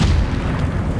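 Bomb explosion in Resident Evil 4, a loud, dense low rumble that fills the whole second with no clear onset or decay, heard alone.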